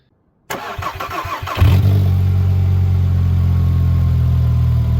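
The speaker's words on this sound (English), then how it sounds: "now we can go ahead and try to start the car" A Volkswagen Jetta-family car engine cranks briefly after fuel injector replacement, then catches and settles into a loud, steady close-range idle with no talk.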